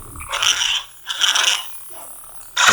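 Short bursts of crackling, buzzing lightsaber effects come from a neopixel saber blade, two flaring clashes followed by a sharper onset, close and fairly loud.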